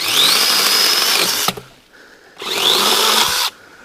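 A Troozy 6-inch cordless electric chainsaw cuts through hardwood in two loud bursts of whining motor and chain, each about a second long, stopping abruptly with a short quiet gap between them.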